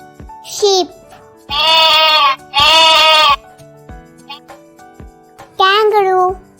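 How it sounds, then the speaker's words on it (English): Several loud, wavering sheep bleats come in separate bursts, each a second or so long, with short quiet gaps between them. "Sheep."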